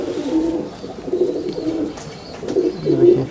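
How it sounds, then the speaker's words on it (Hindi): A breeder's pigeon coos and fusses while being held and handled for inspection of its wings and tail, giving a few soft, low cooing bursts close by with no talk over them. "ये देखिए थोड़ा बुरा मना रहा है कबूतर"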